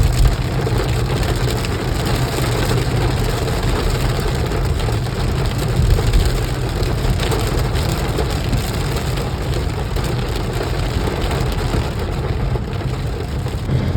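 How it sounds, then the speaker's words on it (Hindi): Heavy rain pours down suddenly while travelling to a mango festival in Delhi, making a dense, steady roaring hiss that fills the whole stretch with no break and no voices. "तेज बारिश हो रही है अचानक से।"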